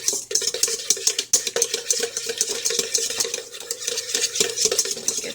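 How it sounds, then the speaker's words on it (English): Warm butter being stirred into hollandaise sauce, a utensil scraping and clinking rhythmically against a pot or bowl in quick, continuous strokes, close and clear with no talk. "I'm only going to add a little bit at a time, slowly stirring it in"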